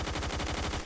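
Rapid automatic fire from an AUG A3 rifle in Roblox Phantom Forces, a quick, even burst of about a dozen shots lasting under a second, moderately loud.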